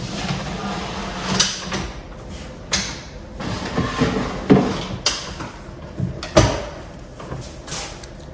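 RTA cabinet drawers being slid in and pushed closed, several soft-close sliding thuds and bumps at irregular intervals, close by with light handling clatter between them.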